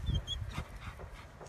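A dog lets out a brief, close whimper with a yip and light panting during a house-training session.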